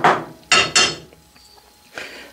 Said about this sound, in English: just by holding my thumb on there like that and striking it now with the brass hammer, I'm on a lead plate here